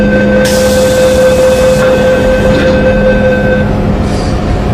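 An MTR Tseung Kwan O line C-Train between Po Lam and North Point hums loudly in motion, with steady tonal motor whine and rumbling wheels on track, a brief hiss near the start, no talk.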